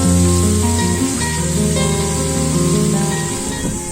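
Grated onion fries in hot oil in a pan for a spicy taro root curry. A loud, steady sizzle and hiss runs throughout under tonal background music.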